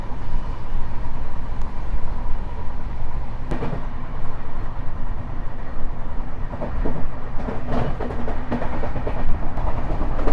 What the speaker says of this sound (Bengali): বাগরাকোট টি এস্টেটের ভেতর দিয়ে, টি গার্ডেন্সের ভেতর দিয়ে ট্রেন ছুটে চলেছে।